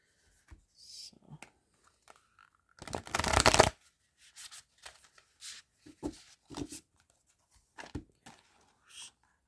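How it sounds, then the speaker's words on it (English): Several bursts of a fairly new, sticky deck of cards being shuffled, one long riffle louder than the rest, with soft handling clicks between them at close range. "Sorry, these cards are hard to shuffle. They stick together."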